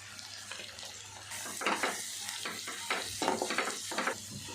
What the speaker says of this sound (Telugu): ఇట్లా మంచిగా కలుపుకోవాలి